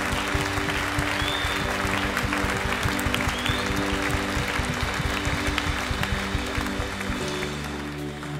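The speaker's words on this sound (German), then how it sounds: "Lass uns hier mal einen Applaus geben," Church congregation applauding, a loud, dense, sustained wash of clapping with a low musical hum underneath that eases slightly toward the end.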